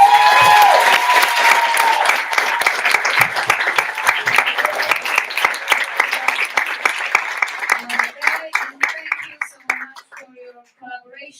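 An audience claps loudly at a veterinary student symposium general assembly after an election winner is announced. The applause is dense at first, then thins into scattered claps and fades out, with voices mixed in.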